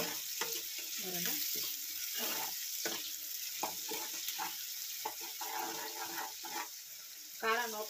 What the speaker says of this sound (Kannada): ಇವಾಗ ಸ್ವಲ್ಪ ಹಾಕ್ಕೊಂಡು ಫ್ರೈ ಮಾಡ್ಕೋಬೇಕು. ಇದು ಕಬಾಬ್ ಕರ್ದಿರೋ ಎಣ್ಣೆಗೆ ಮಾಡ್ತಾಯಿದ್ದೀನಿ